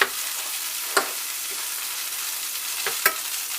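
Salmon frying in hot fat on a stove set high, a steady close hiss with a few sharp pops and spatters.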